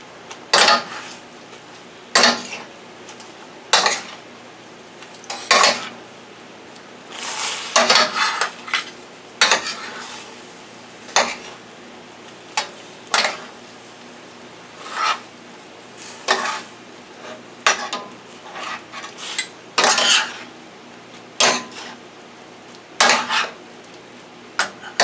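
Collard greens and bacon being sautéed in a pot for a Southern-style dish, heard as repeated sharp clanks of a utensil against cookware at irregular intervals, with a faint sizzle underneath and no talking.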